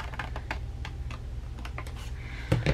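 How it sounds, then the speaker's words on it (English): A 12x12 paper sheet is cut along its score lines into panels, making a series of quiet, irregular clicks and snips, close up with no talking. "So just cut those panels right off."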